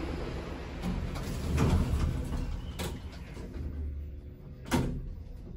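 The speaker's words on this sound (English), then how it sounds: "Door closing." Schindler D Series lift doors closing at a station, a soft sliding rumble with a few light clunks against steady background hum, a sharper thud near the end as the doors meet.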